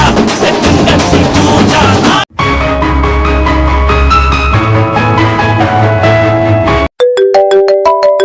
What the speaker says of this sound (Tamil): யார ஃபோன் பண்றது